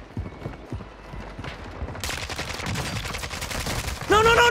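Warzone firefight with sustained close automatic gunfire that starts loud after a quieter opening with scattered shots, then a sharp ringing alert tone near the end, all without speech.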